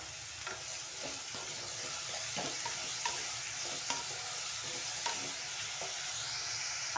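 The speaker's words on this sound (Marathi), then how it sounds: "आता हा दुधी भोपळा फ्राय झालेला आहे" Bottle gourd fries in a pan with a continuous close hiss, while a spatula scrapes and stirs in repeated short strokes roughly every second; no voices.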